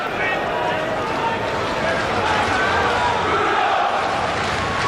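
A large Wembley crowd at a Frank Bruno boxing night roars in a steady, dense wash of cheering and shouting, with a voice talking over the noise throughout.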